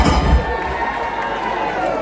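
Crowd at a political rally cheering and clapping as a candidate is introduced, a loud sustained roar of voices and shouts with a heavy burst at the start that settles into steady noise.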